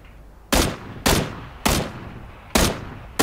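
Gunfire in the shooter game PUBG: five sharp, loud shots fired at a steady, deliberate pace about half a second apart, each ringing out briefly before the next.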